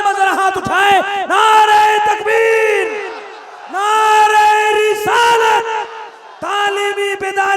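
A large gathering at an Islamic religious conference roaring slogans in unison, repeated loud chanted bursts with short pauses between them, voices massed together close and strong.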